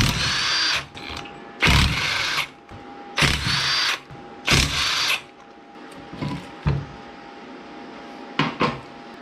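A power tool unbolting parts on an Acura MDX: several loud, close bursts of whirring drill or impact driver, each about a second long and spaced by pauses, followed by shorter bursts with a few metallic clinks and rattles.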